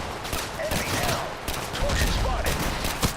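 Machine gun fire in a Mount and Blade battle, rapid crackling volleys from several guns that come in bursts over background battle noise, with no talking.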